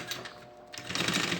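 Sewing machine topstitching a seam on a lunch bag, a fast, close mechanical whirring and clatter of stitching that runs steadily and grows slightly louder in the second half.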